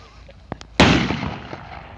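A firecracker goes off with one loud sharp blast that rings out and decays, following a couple of small pops, outdoors and close by.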